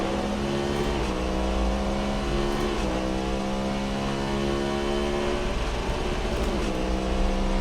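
Cadillac V-Series R race car in Assetto Corsa, its engine droning loud and steady with layered harmonics, rising and dipping slightly as it revs through corners, continuous throughout with no talk.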